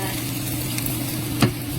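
Onion frying in a little oil for pinakbet, a steady close sizzle with a low hum underneath and one brief clatter of stirring near the end.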